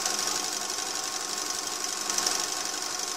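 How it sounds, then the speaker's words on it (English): A lathe running at medium speed drives a pulley on a magneto test rig during a magneto repair. It makes a steady, fairly quiet mechanical whir and rattle that stays even throughout, with no talking. "I've got my lathe going at medium speed, and my pulley's going to be going on the magneto twice as fast as the lathe."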